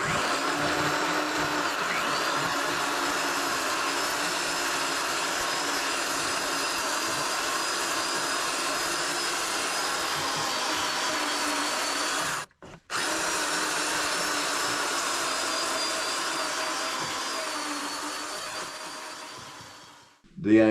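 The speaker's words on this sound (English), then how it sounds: "the aim of this finger sander is to smooth out the epoxy filler" A finger sander buzzes continuously while smoothing epoxy filler on a sailboat, a steady close whirring that runs almost unbroken apart from one brief stop partway through and winds down at the end.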